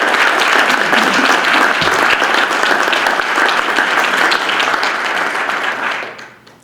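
Sustained, loud applause from an audience at a New England disc golf hall of fame ceremony, steady for several seconds before fading out at the end.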